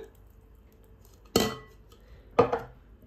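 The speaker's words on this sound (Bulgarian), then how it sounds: "И хубаво разбърквам." Two separate clinks of a utensil against a bowl while pureed spinach is stirred into beaten eggs, each a sharp close knock with a brief ring, set in near silence.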